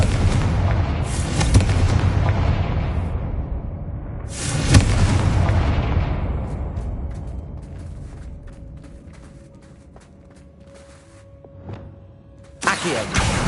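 The Confringo blasting spell in the video game Hogwarts Legacy, played on PS5, goes off as two heavy, booming explosions a few seconds apart, each with a long rumbling decay, before a sharper blast closes.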